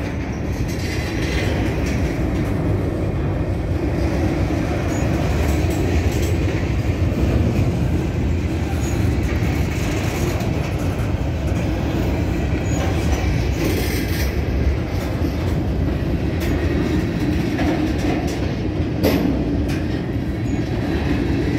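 A loud, continuous rumble of a train rolling past up close, with rhythmic clatter of wheels on the rails throughout.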